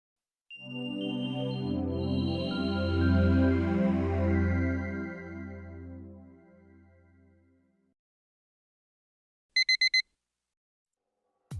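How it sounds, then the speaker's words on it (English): An alarm clock rings in the visual novel game White Album, a loud, steady electronic tone that swells, holds for several seconds and fades out, followed by a brief separate chime burst. "sound of an alarm clock, which I haven't heard since entering universities, fills my ears"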